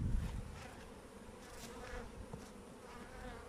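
Honey bees hum in a dense, steady buzz around an opened beehive during hive inspection. The swarm drones continuously, close and moderately quiet, with a brief rustle at the start and no speech.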